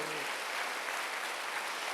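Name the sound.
congregation applauding in church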